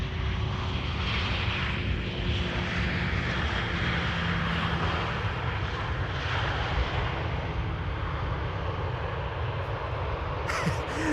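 Airliner landing at Amsterdam Schiphol Airport, a sustained broad engine roar from a distance that stays loud and steady, with a faint tonal whine, and no talk.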